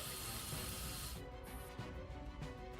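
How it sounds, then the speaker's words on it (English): A high-pressure cleaning truck blasts torrents of water onto road rubble, a loud, dense hiss that holds steady, then thins abruptly partway through into a softer spray with scattered splashes. "spraying torrents that blast the remaining rubble up to the sides of the road"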